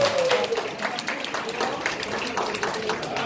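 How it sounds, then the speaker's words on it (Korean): An audience applauds at a Lions Club officer installation ceremony in North Incheon, a dense, steady burst of clapping from a hall crowd lasting a few seconds, with a voice faintly heard over it. "뜨거운 박수 부탁드리겠습니다."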